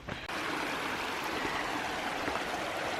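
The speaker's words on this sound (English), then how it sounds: "Here is that creek" A creek on the Appalachian Trail in Georgia rushes steadily, a dense, continuous wash of flowing water close by with no voices.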